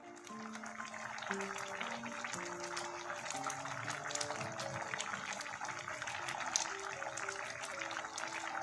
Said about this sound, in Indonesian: masukkan gula merah, garam, dan penyedap rasa. Lalu diaduk sampai tercampur rata dan masak sampai